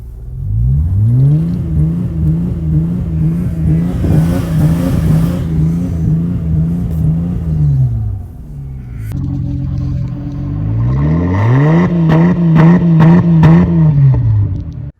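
Holden VS Commodore engine held against its neutral rev limiter set at 3,500 rpm, loud steady revving with a bouncing limiter note, a brief dip, then a second sustained run against the limiter.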